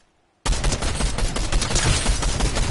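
Video game gunfire erupts after a moment of silence into a loud, sustained rapid-fire barrage, dense and continuous to the end.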